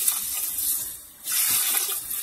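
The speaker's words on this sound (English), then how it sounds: "I put it in a pot and I'm gonna add some water" Water pours from a tap into a pot of washed white rice, a steady hissing gush that briefly dips before surging again, close and continuous.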